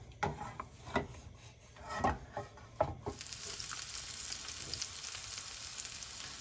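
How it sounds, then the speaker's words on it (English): Marinated fish steak dropped into hot oil in a pan, spiced marinade clinging to it; a few sharp scraping knocks come first, then a steady broadband sizzle takes over and holds at moderate loudness to the end. "I'm now adding the entire fish steak"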